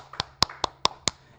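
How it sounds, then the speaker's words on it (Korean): Five sharp, evenly spaced hand claps sound close and crisp in a quiet room, like a short bit of solo applause. "오, 이럴 때 박수"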